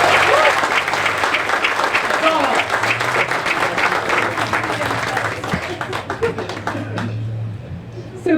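A school audience claps in warm applause at a Texas Independence Day event, a dense run of many hands that stays strong and slowly thins out, with some voices mixed in.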